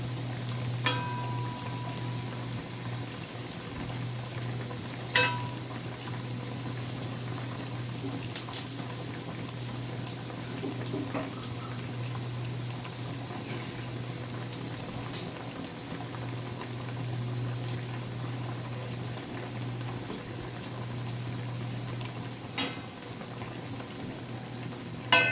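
Rohu fish curry broth with ridge gourd boiling in a pot, a steady low bubbling simmer with soft pops and occasional faint clinks, continuous and moderately close, no talk.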